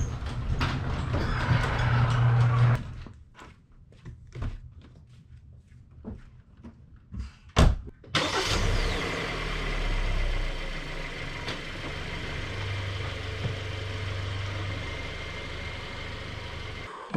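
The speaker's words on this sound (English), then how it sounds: "But let's get the cars out of the way first." Cars being moved out of a driveway: clattering knocks and thumps, then an engine starts and idles with a steady low rumble, fairly close, no talking.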